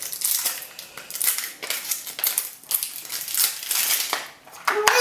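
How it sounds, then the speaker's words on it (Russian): Small scissors snipping and crinkling through plastic toy packaging for a surprise egg figure, with close, repeated crisp cuts and crackles in an uneven rhythm. "Давай я тебе помогу здесь ножничками вот это вот открыть."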